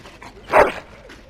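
A dog in the video game Dragon Age Origins gives a single short whimper or yip, close and clear, with brief faint sounds around it.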